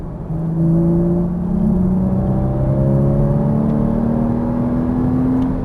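A Porsche Cayman S engine under throttle on a race track, heard from inside the car as a loud, steady rising whine and drone climbing smoothly in pitch through the gear, with no voices.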